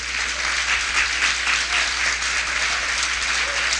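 A church congregation claps together in praise, a dense, steady, loud wash of applause that carries on without a break.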